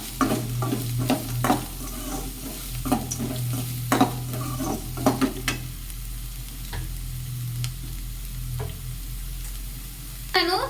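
Onions frying in a pan, a steady close sizzle punctuated by repeated sharp scrapes and clacks of a utensil stirring, with quieter stretches of bubbling oil.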